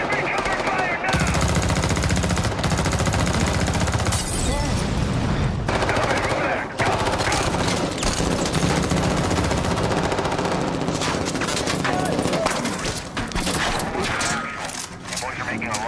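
Sustained machine gun fire and dense gunfire bursts in the Call of Duty DMZ combat game, loud and continuous nearly throughout, with players' voices mixed in.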